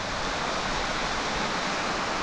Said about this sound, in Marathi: हा दुसऱ्या बाजूचा धबधबा आहे.